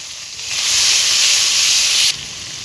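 Green chillies drop into hot oil with cumin seeds, turmeric and salt, setting off a loud, close hissing sizzle that swells quickly, holds steady for about a second and a half, then cuts down abruptly.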